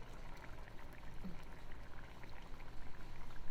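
Coconut milk pours in a steady, soft stream for a few seconds, fairly quiet, with a faint bubbling hiss underneath.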